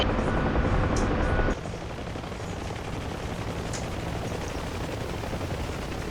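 A pair of helicopters flying over Hilo gives a steady, loud, droning rotor and engine roar that is heaviest in the first second and a half, then settles into a constant wash of noise.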